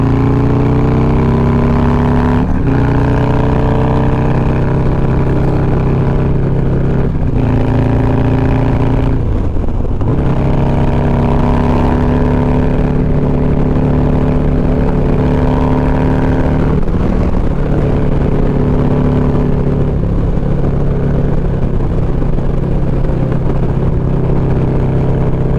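A 2020 Harley-Davidson Road Glide with a 124 motor pulls hard and loud through the gears, its deep engine tone rising steadily, dipping at each shift, then climbing again at speed.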